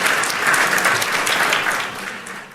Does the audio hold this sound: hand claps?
yes